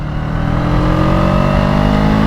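A Honda Rebel 500 motorcycle engine drones loudly and close while riding, a steady mid-pitched hum that holds evenly as the rider shifts gears without the clutch.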